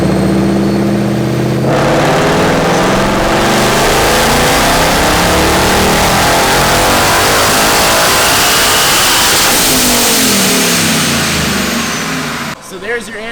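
A supercharged Mustang GT with an ESS G3X blower roars through a full dyno pull, the engine climbing loudly and continuously in revs for about ten seconds before cutting off. Speech is present under the engine roar.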